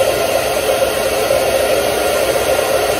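A handheld hair blow dryer runs steadily at close range, a loud continuous whooshing roar with no pauses and no voices over it.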